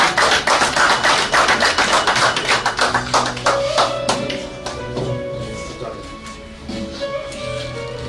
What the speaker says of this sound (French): Que vos applaudissements renforcent ma bouche.